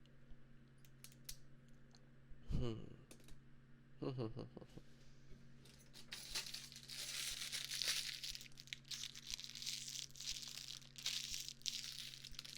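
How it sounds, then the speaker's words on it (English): A plastic wrapper crinkles close up in quiet ASMR, with a couple of sharp rustles followed by a longer stretch of dense, continuous crackling. "Do you guys like plastic wrappers?"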